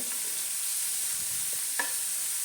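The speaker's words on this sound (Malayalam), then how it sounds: "ഞാനിവിടെ ഒരു സവാള അരിഞ്ഞത് ചേർത്ത് കൊടുക്കുന്നുണ്ട്" Chopped onion added to a frying pan while cooking long beans, a brief, steady, close sizzling hiss with a single small clack of a utensil near the end.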